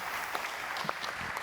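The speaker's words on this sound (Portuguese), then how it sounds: "Tirar uma salva de palmas para os palestrantes." Brief burst of audience applause for the speakers in a large auditorium at a conference, dense clapping from a crowd heard at moderate distance.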